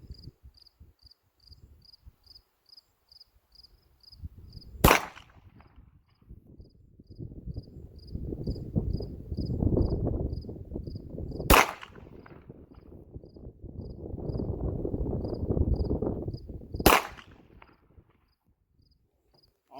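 A B&T USW-G17 9mm pistol fired at a 200-yard target: three sharp single shots spaced several seconds apart, with crickets chirping steadily and people talking in low murmurs between the reports.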